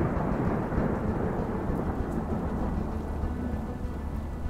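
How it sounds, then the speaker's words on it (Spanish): A heavy thunderstorm: steady, loud rain roar with deep rolling thunder rumbling underneath throughout, no voices. "Pero un día se levanta una gran tormenta."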